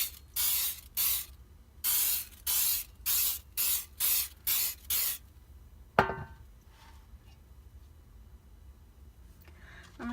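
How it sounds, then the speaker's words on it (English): A can of cooking spray sprays into a 9x5-inch loaf pan in about ten short, even bursts of hiss, followed by a sharp metallic clank and some faint rattling. "I'm going to spray this 9x5" loaf pan with some cooking spray"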